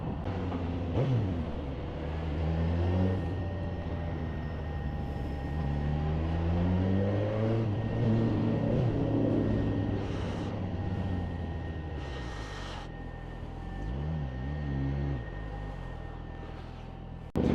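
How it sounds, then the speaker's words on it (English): Motorcycle engine of a Suzuki GSX-S 1000F filtering through stop-start M1 motorway traffic, with rising and falling revs, steady road and wind roar, and surrounding vehicles throughout. "So as me and Red filter on this really horrible stop-start M1 traffic, let's talk about filtering"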